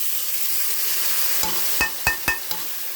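Vegetables and moong dal cooking in a pan for sabu khichuri, a steady sizzle running throughout with a few sharp stirring knocks near the end, close and moderately loud, no talking.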